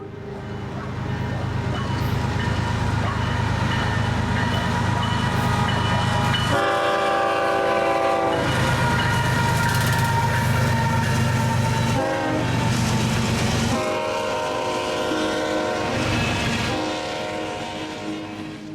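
A Kansas City Southern freight train passes close by in Kansas, its loud rumble and wheel clatter filling the scene while the horn blasts repeatedly in long, harmonic bursts.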